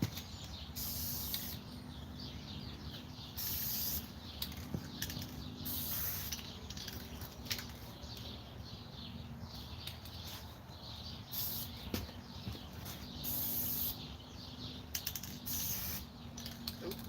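A sprayer nozzle lays paint onto a mower, a steady hissing spray repeated in short and longer bursts with brief gaps, near and fairly loud, with faint mechanical clicks in the background.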